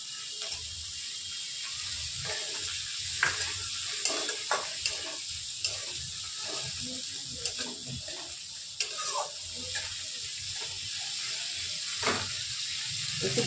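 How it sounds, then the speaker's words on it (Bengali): Onions frying in a pan for a Bengali chilli egg dish, with a steady close sizzle and repeated scraping strokes of a spatula stirring them through the oil, no talking. "এবার পেঁয়াজগুলো দিয়ে দিচ্ছি।"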